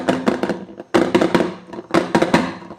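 Tray of dhokla batter tapped repeatedly on a surface to settle it, giving three close, loud bursts of clattering knocks spaced about a second apart, with no talk.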